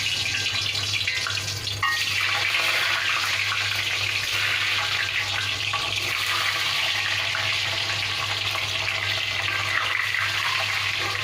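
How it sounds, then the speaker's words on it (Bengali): Eggs fry lightly in oil in a wok, giving a loud, unbroken sizzle and crackle that holds steady from start to finish with no talking. "এখন এখানে ডিমগুলোকে একদম হালকা করে ভেজে নেব"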